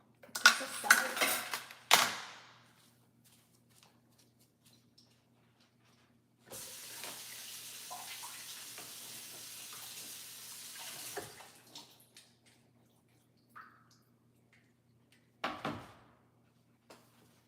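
A kitchen tap runs as something is rinsed under the water, with a short burst of splashing, a longer steady stream in the middle, and a few clinks of dishes between, close and moderately loud.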